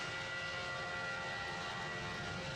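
A propeller-plane engine in a Roblox flight simulator game drones steadily and loud as the aircraft descends toward an ocean landing, with no voices.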